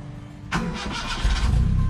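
A Mitsubishi Lancer GSR with an overhauled, replaced engine starts up: brief quiet, a sudden crank that catches at once, then a loud, rough idle that grows slightly stronger, close by and without talk.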